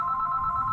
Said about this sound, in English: That's the phone ringing. Will that pick up on the mic?